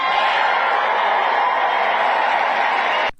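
Loud, continuous crowd cheering at a Trump speech, a steady roar of many voices held at full strength for about three seconds before cutting off abruptly.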